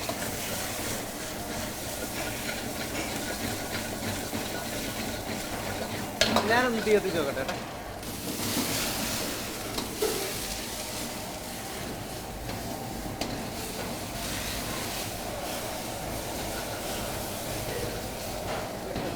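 Garlic and onion sauté in a pan on a Kerala cooking show, giving a steady sizzle with stirring and clinks of a utensil against the pan, loudest around the middle, with no talk over it.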